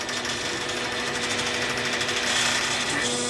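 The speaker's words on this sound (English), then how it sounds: "My first attempt at CNC engineering works." A homemade DIY CNC machine runs on two threaded drive bars on its y-axis, giving a loud, continuous, close mechanical whirring and buzzing with a rapid pulsing rattle and a steady hum beneath.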